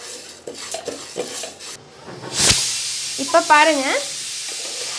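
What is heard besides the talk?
dry roasting sambar ingredients in a pan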